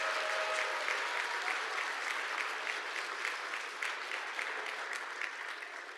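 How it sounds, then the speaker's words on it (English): Students at a university medical school Match Day ceremony applaud their parents and loved ones, a sustained, even wash of clapping from a large hall crowd that eases slightly toward the end, with no talk. "give the best round of applause for your parents"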